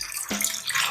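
Raw chicken pieces washed in water in a kitchen, a short splash and swish of running water with a brief slosh near the middle, close and fairly loud.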